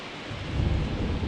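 Heavy rain and rumbling thunder sweep across a baseball stadium in the MLB The Show 23 video game, a dense, continuous wash of noise with a deep low rumble swelling through it, loud and without voices.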